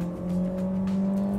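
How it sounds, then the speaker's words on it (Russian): A Skoda Octavia with a naturally aspirated 1.6 engine, automatic gearbox in S mode, accelerates hard toward 100 km/h, a loud, steady engine drone holding one rising tone from inside the cabin, with no talk. "давайте узнаем реальную динамику разгона до сотни у Октавии"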